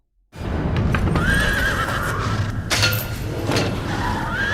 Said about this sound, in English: The horse reared up with a frantic neigh.